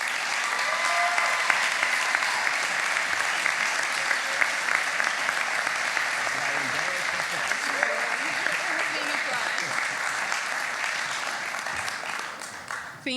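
A large commencement audience applauds steadily for a student speaker at the McNally Smith College of Music 2016 graduation, the dense clapping sustained for about thirteen seconds before fading slightly at the end.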